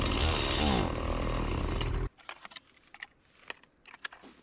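A chainsaw engine in -23 degree Alaskan cold roars briefly with a rising and falling whine, then cuts out abruptly, leaving scattered faint clicks and taps in near silence.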